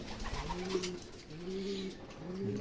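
Racing pigeons coo in repeated low, rolling phrases, several overlapping calls close by with a steady background hum.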